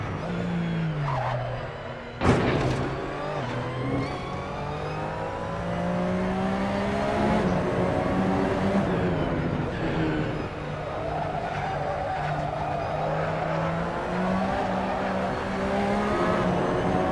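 A Porsche 911 RSR engine in Assetto Corsa revs loudly and continuously, pitch rising and falling with throttle and gear changes, a sharp burst near the start, tire squeal mixed in, no voices.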